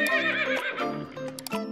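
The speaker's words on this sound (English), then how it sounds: "Horse. This is a horse." A horse gives a loud, close whinny with a quavering, falling pitch, followed by shorter snorts and breathy bursts.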